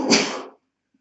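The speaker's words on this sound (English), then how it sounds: "Excuse me, I'm going to sneeze." A single short sneeze from a man during a law lecture, close and sharp, followed by silence.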